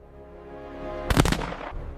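A single loud gunshot cracks sharply and close, its boom decaying over about half a second, with no voices.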